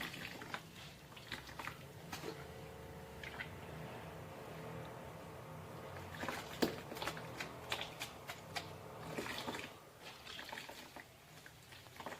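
Wheat being washed by hand in water in a tub, with steady trickling, swishing and splashing at close range and occasional sharper sloshes, no talk.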